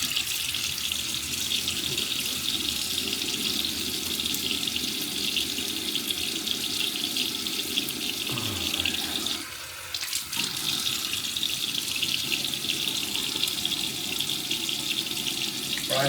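Tap water runs steadily into a sink at close range while a man wets his face before a wet shave, a continuous splashing hiss with a brief dip in flow near the middle.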